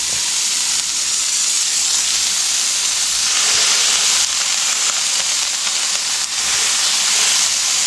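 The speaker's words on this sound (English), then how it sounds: "we're going to take our onions, place them on top. Press it down a little bit" Onion smash burgers sizzling steadily on a hot griddle, a loud, dense, continuous hiss and crackle of frying that holds throughout with no talk.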